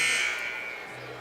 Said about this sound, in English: There's the buzzer, and we're ready for second half action